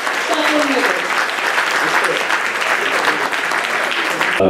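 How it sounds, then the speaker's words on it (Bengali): An audience at a Udichi New York cultural program in the USA bursts into loud, sustained applause that fills the room, with voices faintly mixed into the clapping. "চলুন আবারও জোরে করতালি দিয়ে"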